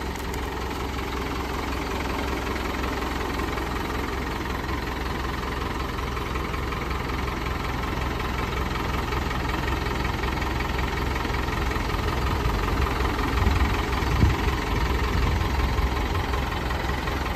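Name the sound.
engines idling while warming up before Christmas ride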